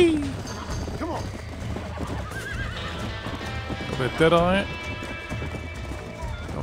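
Hooves clip-clop as a horse runs in the Red Dead Redemption video game, with a loud neigh rising near the middle, while someone talks over the gameplay sounds.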